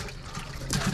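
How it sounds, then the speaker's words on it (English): Water splashes as it is poured back into a bass boat's live well at a lake tournament, a short, close, full-bodied gush that swells louder toward the end. "Get the water back in."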